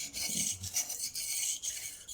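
A Japanese-style knife is sharpened by hand on a sharpening stone in repeated rasping strokes, each a close, even scrape separated by brief pauses, with no talking.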